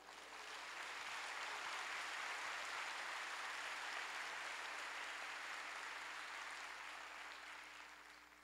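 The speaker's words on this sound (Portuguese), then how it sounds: "Glorifica o Senhor com as suas palmas." Church congregation clapping together in praise during a worship service, a steady dense wash of applause that holds evenly for several seconds and fades slightly at the end, with no voices over it.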